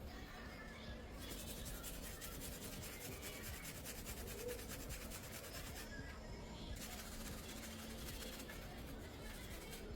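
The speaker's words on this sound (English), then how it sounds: "Now for the most satisfying part, scrubbing the motherboard clean, getting into every port and corner." A small brush scrubs the dirty motherboard of a Sony VAIO laptop found outdoors, making continuous close bristly rubbing strokes that hold steady for the whole stretch.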